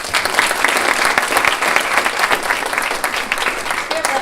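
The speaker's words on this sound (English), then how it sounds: "Let's give a round of applause for Kevin." Crowd applause at a Washington County Chamber of Commerce Eggs & Issues breakfast, a lively sustained round of clapping from a roomful of attendees.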